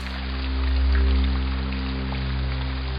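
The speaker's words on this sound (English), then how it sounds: "It was raining on the night of Halloween." Steady rain patters on a surface over a low, constant hum, with no voices.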